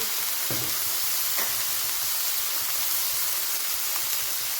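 Onions or vegetables sautéing with turmeric powder and salt in a pan, a steady close hiss of frying that runs unbroken, with a couple of faint scrape or stir sounds early on.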